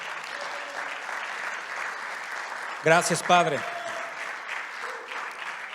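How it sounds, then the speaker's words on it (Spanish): A church congregation at a Spanish-language worship service claps steadily throughout, with a voice briefly speaking over the applause midway. "Dele un fuerte aplauso al Señor amado."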